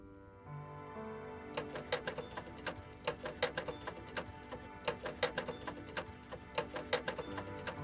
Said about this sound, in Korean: 40년 세월을 하루도 손에서 놓지 않았던 재봉틀.